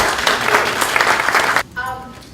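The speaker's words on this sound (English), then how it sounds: "Let's give her a round of applause." A meeting audience gives Jean a short burst of applause, loud and dense clapping for under two seconds, cut off as a speaker's voice begins.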